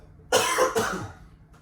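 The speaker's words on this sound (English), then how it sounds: "Sorry, I got a little cough." A single short, harsh cough, close and fairly loud, with a quick second burst right after, then quiet.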